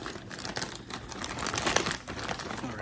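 Plastic wrapping around a wristwatch package crinkles and crackles steadily up close as it is cut open, a busy rustling texture with no talking.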